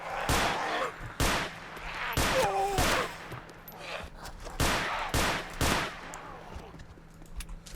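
Makarov pistol gunfire in ArmA 2 DayZ, sounding as sharp, loud single shots in an uneven series of about eight, with gaps and faint background noise between them.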